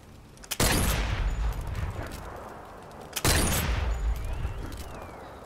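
Two loud rifle shots from a sniper rifle in a VR war game set in a burning town, fired about three seconds apart, each a sharp crack followed by a long rolling echo that decays slowly.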